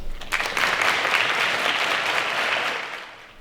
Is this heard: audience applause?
yes